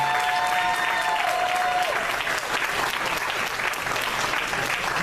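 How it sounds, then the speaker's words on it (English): Sustained applause from a homecoming crowd honoring a senior high school football lineman, steady and dense throughout with a few tonal sounds and faint voices mixed in early. "please give him a hand clap"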